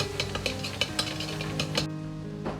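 Ginger and garlic stir-fry in a little oil in a wok for cumin chicken, with a loud steady sizzle and rhythmic clinks and scrapes of the spatula against the pan, close by.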